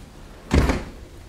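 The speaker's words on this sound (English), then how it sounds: "Shut the door to block out the noise." A door in a mobile home living room pushed shut, a single short muffled thud with brief rattle, close and moderately loud against a quiet room.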